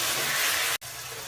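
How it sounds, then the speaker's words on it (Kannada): Chopped vegetables for a colour veg chapathi filling fry in a hot pan with a loud, steady hiss that cuts out for an instant and then resumes. "ಇದ್ರ ಜೊತೆಗೆ ಫ್ರೈ ಮಾಡ್ತೀವಿ."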